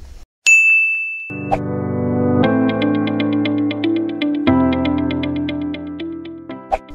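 A bright notification bell dings once, followed by a short melodic chime jingle of clear, ringing tones, loud and close with no voices.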